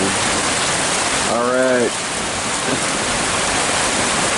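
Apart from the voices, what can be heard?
hail falling during a hailstorm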